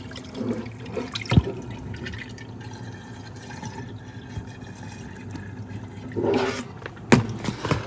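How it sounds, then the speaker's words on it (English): Water from a pot of boiled lamb and chuck beef is poured off into a sink, a soft continuous run of liquid with a couple of sharper splashes and clunks. "I'm about to drain this out of the water"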